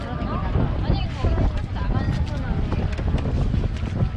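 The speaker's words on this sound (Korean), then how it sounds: "바람이 뿜뿜 쏟아나는 세일링보트" Sailing boat cutting through strong wind off Boracay's White Beach, with gusty wind buffeting the microphone and water rushing against the hull, while people talk and exclaim throughout.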